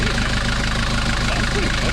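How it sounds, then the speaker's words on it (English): A 1982 Mercedes engine idles steadily and close by, giving a continuous low rumble with a slight uneven beat throughout. "Turn up the idle controller and start up."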